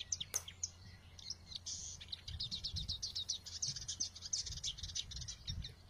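A songbird chirps in quick, high, repeated tweets and short trills, fairly faint and close, over a low background rumble, with a brief sharp click near the start.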